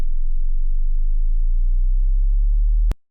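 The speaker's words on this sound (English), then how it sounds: "I'm going to route my sine wave to the auxiliary track" A steady, pure low test tone holds unbroken for about three seconds at constant loudness, then cuts off abruptly.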